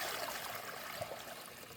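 A soft, continuous trickle of water runs into an outdoor water dish set out for birds and squirrels, faint and close, with no voices.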